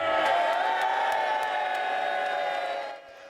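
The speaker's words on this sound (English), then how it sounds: "Watch the cheering Labour benches as Christian Wakeford walked to their side of the chamber" Labour MPs cheering on their benches in the House of Commons chamber, a loud sustained roar of many voices that holds steady and then drops off sharply near the end.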